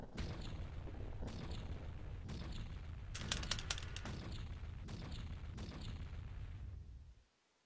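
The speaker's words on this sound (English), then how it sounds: "Wonder how many different colors there are for these fireworks." Fireworks burst in the Majora's Mask video game in a series of about six booming blasts. A quicker crackling cluster sounds midway, and each blast leaves a short rumbling tail before everything cuts to silence.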